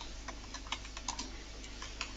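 Quiz question being typed on a computer keyboard, a quiet run of light, irregular key clicks spread across a couple of seconds over a steady low hum, no talking.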